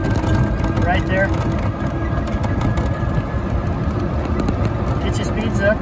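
A refurbished Lido golf cart, a low-speed electric vehicle, drives along smoothly with a steady near motor and road hum, while someone talks over it throughout.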